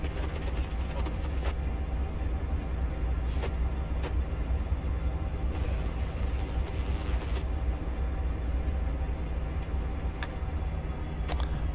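BNSF 5723 locomotive in Train Simulator 2020, hauling over Cajon Pass toward San Bernardino, gives a steady low rumble with faint rail ticks and clicks throughout, unbroken and without talk.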